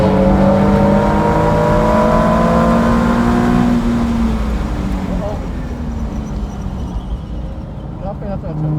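A race car at speed on a track, chasing an Infiniti Q60 during a high-performance driving event, engine note climbing through gears in steady loud waves before easing off, heard from inside with talk over it.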